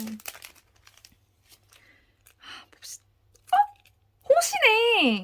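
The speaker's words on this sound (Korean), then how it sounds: "명호야 뜯어볼게요" A random K-pop merchandise packet is torn open, with close crinkling and ripping plastic in short bursts, and people talk quietly toward the end.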